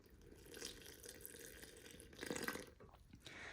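Water pours quietly into a sourdough starter, a faint continuous trickle and splash with a slightly louder burst near the end.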